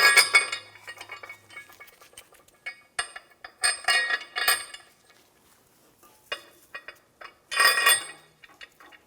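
Metal bolts for an air suspension helper spring kit on a 2005-2015 Toyota Tacoma clink and rattle against the airbag assembly plate in several separate bursts of bright metallic taps, close and alone without speech.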